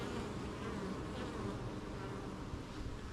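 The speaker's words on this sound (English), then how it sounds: "Now these bees here" Honey bees buzz in a dense, steady drone at a hive during queen rearing, close and continuous for the whole stretch with no talk.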